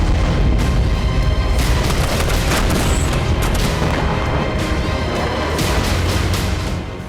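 Loud, continuous rumbling blasts and booms from bombing in Gaza, a dense barrage with heavy low-end impacts running throughout without any voices.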